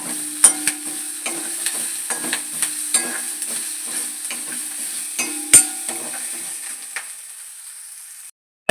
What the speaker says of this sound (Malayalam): നല്ലപോലെ ഒന്ന് സോട്ട് ചെയ്ത് കൊടുക്കണം